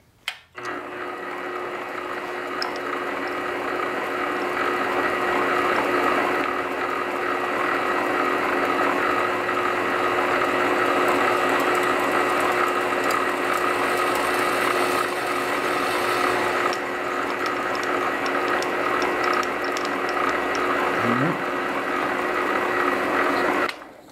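A metal lathe turning a brass hammer project runs steadily at reduced speed, a continuous close machine whine with a constant tonal hum and no talk, a brief low sweep near the end.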